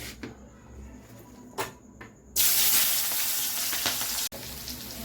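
Chilli sauce, green chillies and fried bhetki fish go into hot oil for chilli fish: a few quiet clinks, then a sudden loud, sustained burst of sizzling close by.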